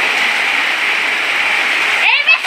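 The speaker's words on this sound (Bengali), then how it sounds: "এই যে টুকটুক করে বৃষ্টি পড়তেছে এখানে।" Heavy rain in a village during a Kalbaishakhi storm, a steady, dense wash of falling water that stays loud throughout, with a brief splashy disturbance near the end.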